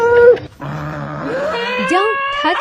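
A dog whimpering and whining in a high, wavering voice, with rising and falling cries that carry on steadily for a couple of seconds after a brief pause.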